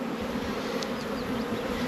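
Honey bees buzzing at a hive during an April day of beekeeping, a steady, dense drone that holds evenly throughout with no talking.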